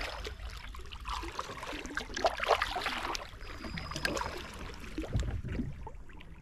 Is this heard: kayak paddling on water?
yes